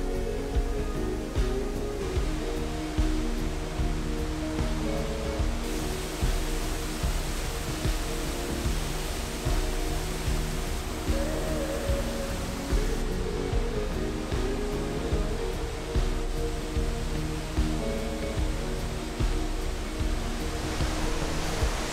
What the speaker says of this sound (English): So this is like the biggest waterfall